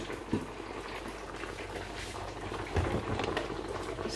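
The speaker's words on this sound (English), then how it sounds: "So I'm adding just little oil, like one serving spoon, not too much oil." A pot of yam porridge simmers with a dense, steady bubbling hiss, close and continuous, with a brief louder bubbling surge as a little oil goes in.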